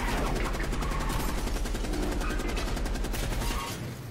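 Sustained automatic machine gun fire from Call of Duty: Black Ops Cold War rattles continuously at close range, dense rapid shots with game effects layered in, tapering slightly at the end, no voices heard.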